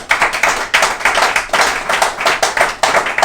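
A church congregation claps in quick, rhythmic unison, sharp repeated hand claps filling the space loudly throughout, as at a midnight worship service.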